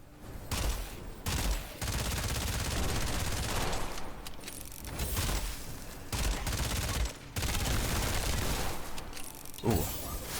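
Dense, sustained gunfire from a weapon in the video game Witchfire, with loud bursts of shots and impacts rolling on almost continuously, broken only by a few short pauses.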